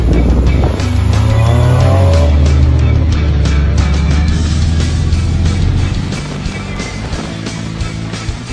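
A 1998 Honda Civic drives by loudly and close, with a sustained engine roar, tire noise on the road and a steady rush that gradually eases as the car moves on.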